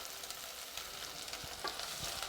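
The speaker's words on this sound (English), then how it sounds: "As you cook those onions." Red onions fry in a pot with a steady, close sizzle and crackle, broken by soft stirring scrapes and small pops, with no talking over it.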